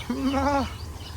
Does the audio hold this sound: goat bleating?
yes